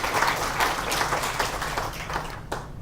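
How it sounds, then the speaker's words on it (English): An audience at an academic forum on South Africa-China engagements gives a short round of applause, close and moderately loud, tapering off after a few seconds. "Maybe we give an applause, please."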